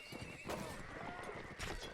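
A horse whinnies over the thud of hooves in a battle video game cavalry fight, loud and close across a brief stretch, with no talk.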